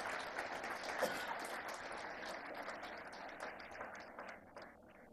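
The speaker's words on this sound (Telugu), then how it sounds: "మనస్ఫూర్తిగా మీరు వాళ్ళని అభినందించడానికి చప్పట్లు కొట్టాల్సిందిగా మిమ్మల్ని అందరినీ కోరుతున్నా" An audience claps for the trainers at a student gathering, a dense, even patter of many hands that holds steady and then thins and fades toward the end.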